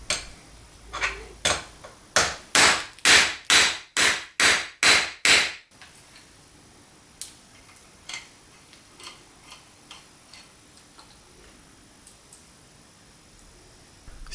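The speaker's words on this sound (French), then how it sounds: "je vais déjà tenter de les défaire à l'aide d'une douille Torx femelle" A female Torx socket is hammered onto broken, seized motorcycle security screws: about a dozen sharp, ringing metallic taps in a steady rhythm, close and loud, then a long quiet stretch with light scattered clicks of tool handling.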